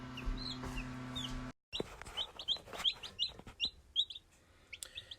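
Newly hatched chicks chirp in quick, repeated high peeps close by, with light pecking taps, after a short stretch of steady hum and a brief cut to silence.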